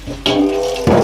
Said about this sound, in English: I'm gonna start with hot water from the tap